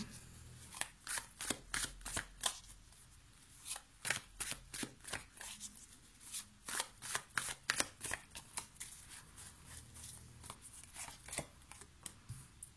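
Tarot cards, slightly sticky in hot weather, are shuffled close by in a long rapid run of crisp riffling slaps, steady and loud, with no talk.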